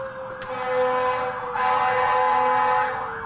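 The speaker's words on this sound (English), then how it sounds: "Fire truck has a woo." A fire truck siren wails outside a courtroom, its rising and falling tone sweeping continuously at steady volume, heard through the walls with no talk over it.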